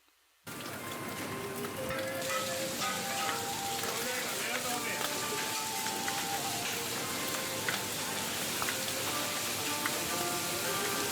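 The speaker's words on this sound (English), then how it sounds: "we've got all of that kitchen cooking sound, we've got the steam, we've got the rain on the outside" After a brief silence, steady rain patters and hisses alongside kitchen cooking sounds: sizzling, faint clinks, and the soft rush of steam.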